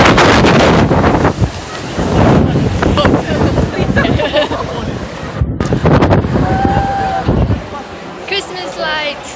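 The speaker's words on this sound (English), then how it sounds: "The wind is insane and Kara is getting blown away." Strong wind buffets a rooftop covered in tar, roaring loudly and steadily into the microphone with heavy gusting rumble, while people talk over it.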